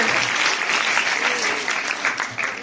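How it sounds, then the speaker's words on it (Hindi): A crowd applauds loudly and steadily at a Hindi poetry gathering, the dense clapping rolling on without a break for a few seconds. "एक बार फिर से जोरदार तालियां बजा दीजिए ताकि हमारी कवित्रियों का उत्साह कम न हो"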